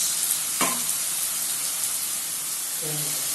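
Curry leaves and coriander hit hot oil while making ennai kathirikkai kulambu, giving a steady close frying sizzle and hiss with a brief burst near the start and another crackle toward the end.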